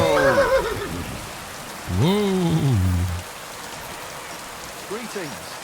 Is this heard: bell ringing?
no